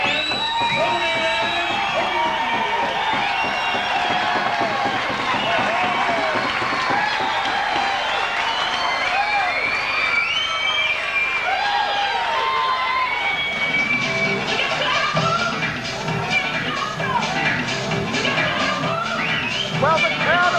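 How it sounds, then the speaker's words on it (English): A boxing crowd roars and cheers for a newly crowned East Coast lightweight champion after four rounds, a dense, loud wall of shouting, whooping and applause that continues unbroken for the whole stretch. "the crowd have gone absolutely crackers"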